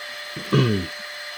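A power drill drives a screw to fix a faceplate onto a roughly 10-inch pine cone bowl blank, making one short whirring burst of under a second, with no talk.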